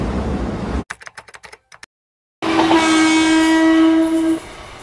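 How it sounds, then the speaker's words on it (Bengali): A loud train sound effect with a long steady horn blast over rumbling rail noise, preceded by a few sharp clicks and a moment of silence, then the horn fades out. "ট্রেনের একটা ভীষণ আওয়াজে"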